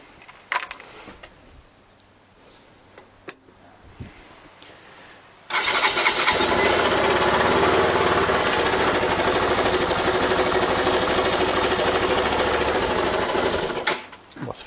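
A Suzuki DR 125 motorcycle running without the choke: a few seconds of rough, faltering idle with sputters, then a loud sustained rev under throttle for about eight seconds before the engine drops off and stalls.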